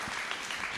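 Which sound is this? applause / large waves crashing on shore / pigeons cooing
applause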